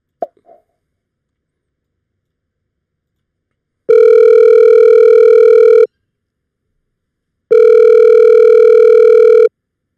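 Telephone dial tone sounding in two steady, loud two-second blasts with a pause between, after a brief click of the line being hung up; no talking.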